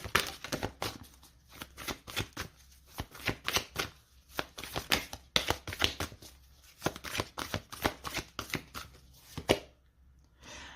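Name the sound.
shuffling tarot cards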